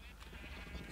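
A single short sheep bleat from a video game, faint and somewhat muffled, heard alone.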